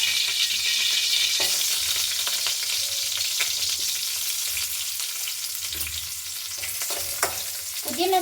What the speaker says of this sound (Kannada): ನೋಡಿ, ಇದೆಲ್ಲ ಫ್ರೈ ಮಾಡ್ಕೊಳ್ಳೋಣ.